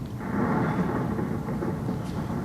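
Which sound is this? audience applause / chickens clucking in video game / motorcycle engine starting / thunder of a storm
thunder of a storm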